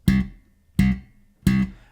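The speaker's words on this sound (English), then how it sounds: "you can try very short staccato notes that sound like this." Three short staccato slap bass notes, evenly spaced and punchy, each stabbed with the index finger and quickly damped, played alone with silence between them.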